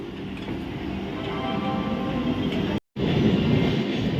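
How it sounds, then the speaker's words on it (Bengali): An Amrit Bharat Express train runs past a halted train at a station, a steady loud rumble of rolling cars with faint rail squeal, broken by a brief dropout before the rumble resumes. "ওই যে দেখো অমৃত ভারত এক্সপ্রেস যাচ্ছে"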